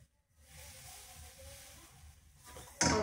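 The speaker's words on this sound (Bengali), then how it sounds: "এবারে এই যে ময়দার ব্যাটারটা দেব" Flour batter hits an oiled tawa and bursts into a loud, close hiss near the end, after a stretch of low kitchen rumble and quiet background noise.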